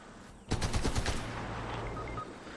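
Rapid burst of gunfire in a Fortnite match, several sharp shots in quick succession followed by a lingering low rumble, close and loud.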